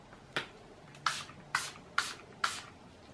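Urban Decay All Nighter makeup setting spray mists in five short, crisp pumps: one alone, then four evenly spaced bursts close to the microphone in a quiet room.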